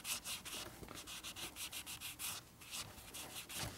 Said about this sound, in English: You see how it makes a little bit of a mess initially, and then just keep rubbing on it, and it comes off.